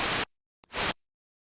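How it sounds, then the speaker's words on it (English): Wide white noise from a synthesizer voice with retrigger off, two bursts: a quarter-second hiss, then a short blip and a louder burst of about a third of a second, broadband and loud, with silence between and after. "So now we have wide white noise."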